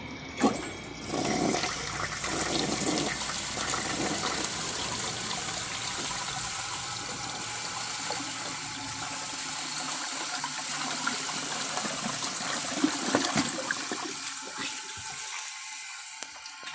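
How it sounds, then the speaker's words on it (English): A 1974 American Standard Cadet toilet flushes with a loud, steady rush of water that holds for many seconds before tapering toward a quieter refill trickle near the end. "the water level is at the correct height, so let's give it a flush."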